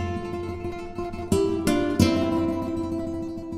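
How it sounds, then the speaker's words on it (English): A sampled Spanish gypsy guitar from the East West Quantum Leap Gypsy library plays rapidly repeating notes over a sustained chord, with a few brighter plucked accents. "I'm double keying the notes to kind of create that kind of repeating note thing they do in the Spanish style."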